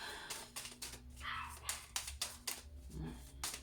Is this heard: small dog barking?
yes